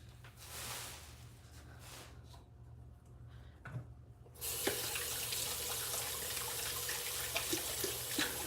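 Kitchen faucet running while hands are washed: a steady water hiss that briefly drops away, then returns as a louder, fuller splashing stream into the sink, close by with no talk.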